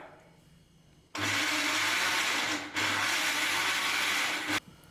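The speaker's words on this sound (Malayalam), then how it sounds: "ഇനി ഇത് അടച്ചതിന് ശേഷം നന്നായിട്ട് അടിച്ചെടുത്ത് കൊണ്ടുവരാം" Kitchen blender whirring through mango lassi smoothie in two loud, continuous runs separated by a brief dip, starting abruptly after a quiet lead-in and cutting off at the end, with no talking.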